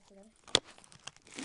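Wrapping on a gift package crinkles and tears open in a brief, sharp crackle, surrounded by quiet rustling, with a person speaking briefly just before.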